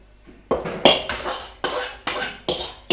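Coriander roasts in a pan while a spoon stirs it, giving about six distinct scraping strokes in an uneven rhythm against the metal. The sound is close and fairly loud, with no talking.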